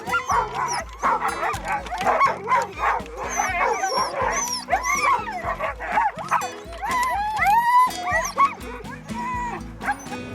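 Several puppies yip, bark and whimper in overlapping bursts throughout, close and fairly loud, with no speech over the litter's constant high-pitched cries.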